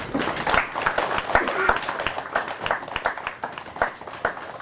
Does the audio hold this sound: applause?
yes